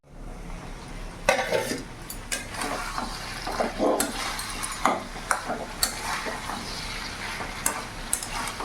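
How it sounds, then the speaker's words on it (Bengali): Katoa stem curry sautés in a pan over medium heat, frying with a continuous sizzle while a spatula stirs and scrapes in irregular strokes, close by and fairly loud. "এবার মিডিয়াম আঁচে ভালো করে কষিয়ে নেব"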